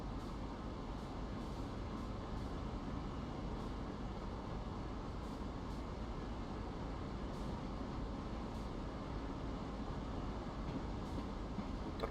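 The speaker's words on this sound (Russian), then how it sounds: "торможение поезда происходит" Simulated train in Train Sim World braking to a stop: a steady, faint low rumble of rolling wagons with occasional light clicks, no talk.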